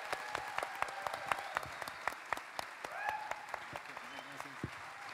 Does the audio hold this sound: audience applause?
yes